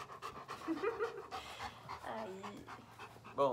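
A dog pants rapidly and close by in quick, breathy bursts, while a person speaks a couple of short words over it.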